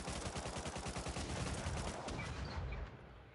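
Rapid SMG gunfire in a video game rattles in a fast, continuous burst of close, loud shots, with fainter shots trailing at the end.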